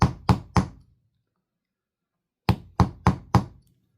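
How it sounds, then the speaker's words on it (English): An awl or metal punch strikes rock while pecking a petroglyph, giving three sharp knocks, a pause, then four more in a quick even rhythm, close and clear with no talk. "So whatever it is, it has to be harder than the rock you're chipping into."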